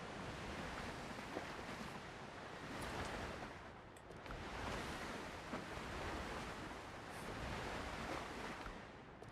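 Video-game ocean waves pushing a small boat: a steady, faint wash of surf and wind-like noise that swells and eases in slow surges, with no voices.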